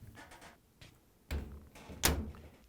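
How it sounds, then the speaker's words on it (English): A dryer door is shut during drum bearing replacement work on a GE-compatible Hotpoint dryer, giving two close thuds about three-quarters of a second apart, the second louder and sharper, with quiet handling noise before. "And now we can close the door."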